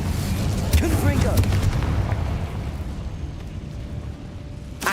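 A Confringo explosion spell cast in Hogwarts Legacy, heard as a loud close booming burst with a rumbling tail that fades out over several seconds.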